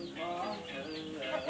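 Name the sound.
fighting rooster crowing on a farm in Isan, Thailand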